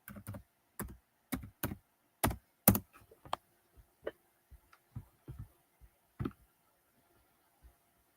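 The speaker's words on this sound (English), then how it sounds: "Let's type in the word American." Keys clack on a computer keyboard in an irregular burst of loud strokes, followed by sparser, quieter taps with no voices.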